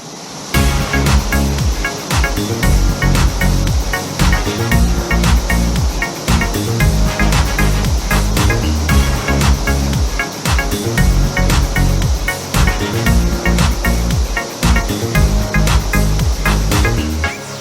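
Cheonmun Waterfall in a mountain valley near Dobongsan and Suraksan gives a loud, steady rushing roar of falling water that fills the whole stretch without a break, heard close by with no talking.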